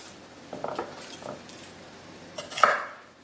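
A knife cutting through a single garlic clove on a board, giving a few soft taps followed by one sharper, louder chop near the end, close and quiet.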